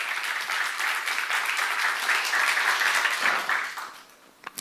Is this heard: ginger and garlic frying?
no